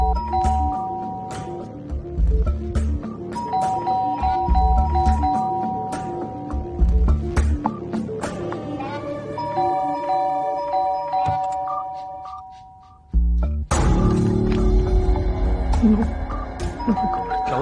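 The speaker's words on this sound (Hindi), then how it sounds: "लगता है कोई घंटी पे बैठ गया." Doorbell rung over and over without pause, repeated chimes stacking up loud and near, with music and busy background sound around it and a brief drop before it resumes.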